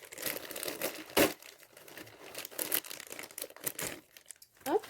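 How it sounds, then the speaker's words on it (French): A parcel package being opened, its packaging crinkling and tearing in bursts of rustling, crackling noise with a few sharper rips, close and fairly quiet, with no talking. "Donc je vais ouvrir le paquet."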